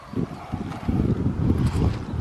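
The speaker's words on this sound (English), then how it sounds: "A bit breezy." Gusty wind blowing along a coastline, buffeting the microphone in loud uneven rumbling bursts for a couple of seconds, with no talk.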